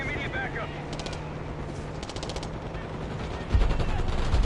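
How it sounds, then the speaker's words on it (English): Battlefield gunfire in the Call of Duty Black Ops 6 campaign, with rapid distant bursts of automatic fire over a steady rumble of ambient combat noise and a heavier thump near the end. "We've got gunfire to the right."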